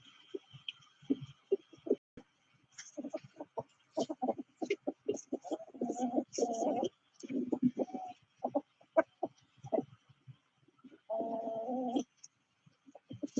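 Large fuzzy-footed chickens cluck and squawk in repeated short bursts, fairly close, with a few longer calls and quiet gaps between.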